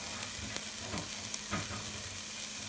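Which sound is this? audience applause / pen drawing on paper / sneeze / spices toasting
spices toasting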